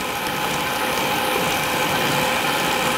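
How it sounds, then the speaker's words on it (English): An electric mixer beating rum cake batter runs steadily and loudly throughout, a continuous whirring motor drone with a gritty mechanical texture and no pauses. "you can use your electric mixer and mix for maybe a minute until it's just all beaten up well"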